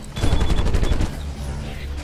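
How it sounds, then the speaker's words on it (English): Rapid bursts of gunfire in the VR mech game Archangel Hellfire, a dense rattling volley up front that thins into a rumbling tail. "bombastic explosions and gunfire littered throughout the matches"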